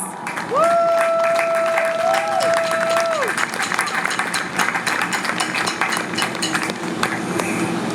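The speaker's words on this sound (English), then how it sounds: "please give them a round of applause" Crowd at an Out of the Darkness Walk in Indianapolis applauding volunteers, a dense, steady wash of clapping with cheers, and a whistle sweeping up and down early on.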